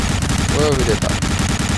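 Rapid gunfire rattles throughout a World War II shooter game, Medal of Honor: Allied Assault, aimed at the player. The dense, loud bursts of shots run continuously, with a brief voice heard under them.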